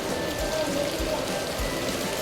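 Heavy rain pours steadily at an outdoor picnic spot near Mumbai, a dense, loud, continuous hiss of drops on surfaces with low thumps, heard alone.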